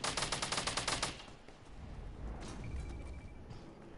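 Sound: gunfire shooting down a drop in the video game Fortnite

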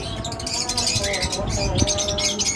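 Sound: lovebirds chirping

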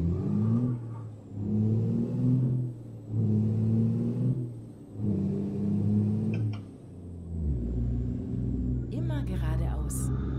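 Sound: truck engine, Detroit Diesel 575 hp, in American Truck Simulator video game

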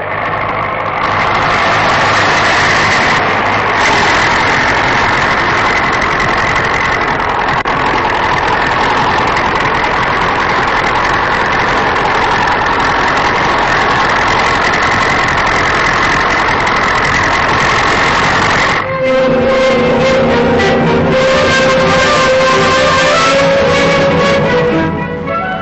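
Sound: tractor engines on Antarctic expedition

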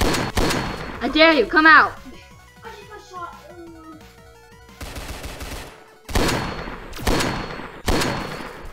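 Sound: sniper gunfire in Roblox video game

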